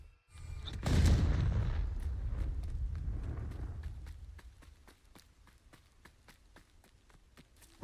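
A sharp magical explosion from the Confringo spell in Hogwarts Legacy bursts loudly, then rumbles and decays over several seconds, followed by a faint series of regular footsteps.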